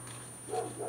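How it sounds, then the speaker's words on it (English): Dogs barking downstairs in a house, a couple of muffled, moderately loud barks arriving in the second half, heard indoors from another floor. "Dogs are going crazy downstairs."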